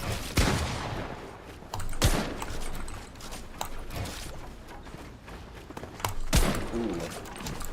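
Shotgun blasts in Fortnite gameplay, several sharp loud reports at irregular intervals over a busy background of mechanical clatter and game effects.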